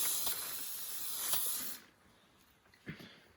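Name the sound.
spray paint can spraying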